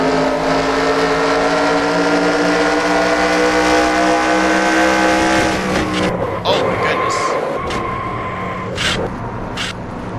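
Stock cars race in a video game at Homestead-Miami, heard from onboard: a loud, sustained engine drone with shifting pitch that breaks up near the end into crashes and scraping hits, commentary voices underneath.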